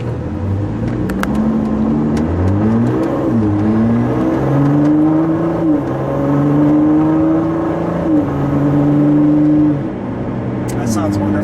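A white 2017 Ford GT with a twin-turbo V6 pulls away gently from a light, its engine note climbing steadily through the gears in smooth, loud rising tones, with people talking over it.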